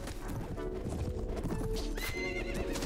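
A horse neighs and whinnies over trotting hooves in the video game Prophesy of Pendor, set against a dense, continuous wash of raid and battle noise.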